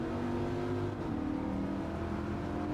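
A 2006 Dodge Viper SRT10 Coupe races in a video game, its engine revving with a steady, droning tone that dips briefly as it shifts gears, heard alone and at moderate loudness.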